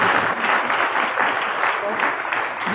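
An audience at a Bible Marathon 2025 opening ceremony gives a priest a dense, steady round of clapping, loud and continuous throughout.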